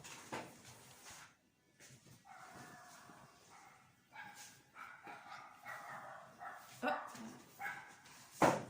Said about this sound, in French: Il y a les chiens qui aboient maintenant.